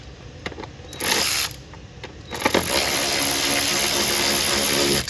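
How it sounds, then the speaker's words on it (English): An 8mm socket ratchet loosens the air box bracket screws in a Scat Pack engine bay. A short burst of close, rapid clicking is followed by a longer, steady run of ratcheting, with no talking. "using the 8mm, we'll loosen up the bracket here and loosen up the air box"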